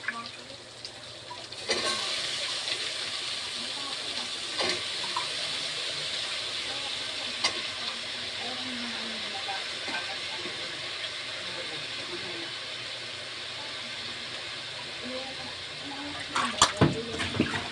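Water poured over sayote and carrots in a pan of sautéed ginisang gulay, a steady close hiss and gurgle running for many seconds, with a few clinks of utensils and someone talking over it.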